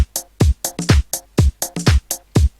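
Tech house drum beat programmed in FL Studio with swing added, a punchy kick alternating with hi-hat and clap hits in a loose, shuffled rhythm, loud and dry with no other sounds.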